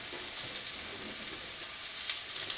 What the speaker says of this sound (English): So at this point, I'm going to throw in my onions.